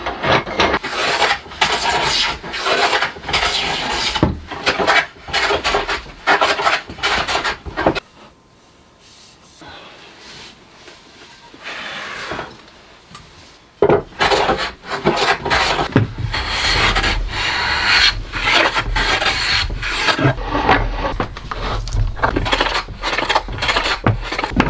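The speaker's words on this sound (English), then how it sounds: "So I'll take the hand planer to it, an edge planer, see if I can get that thing working." Hand edge planer working rough wooden legs for a Moravian workbench, giving repeated rasping, scraping strokes in bursts with a quieter pause in the middle, close and fairly loud with no talk.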